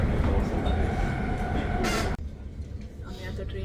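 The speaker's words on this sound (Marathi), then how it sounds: "आम्ही आता ट्रेनमध्ये बसलो आहे." Helsinki commuter train interior while riding: constant loud rolling rumble, a brief hiss, then a sudden drop to a quieter carriage hum, with faint voices underneath.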